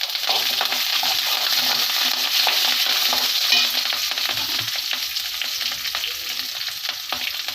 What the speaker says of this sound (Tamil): பூண்டு சேர்த்து நல்லா வதக்கி விட்டுருங்க